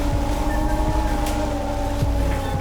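Hyundai Universe bus in MudRunner wading through water, a steady low engine drone with a faint watery wash, continuous and alone.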